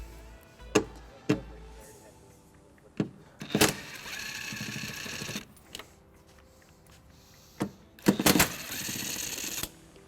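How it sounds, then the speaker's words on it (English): A 10mm socket turns out the tail light bolts on a 2016 Dodge Grand Caravan, close ratcheting bursts and clicks with a few sharp knocks between quieter stretches. "We're going to remove these two bolts using a 10mm socket."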